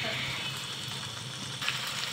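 Chicken pieces with tomatoes frying in oil give a steady, close sizzle that runs unbroken, with a brief louder crackle near the end and no talk over it.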